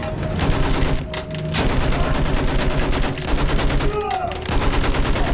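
Dense, loud gunfire from a World War I battle in the video game Battlefield 1 runs throughout, with repeated rapid shots, a brief heavier burst near the start, and a short whistling, descending tone about four seconds in.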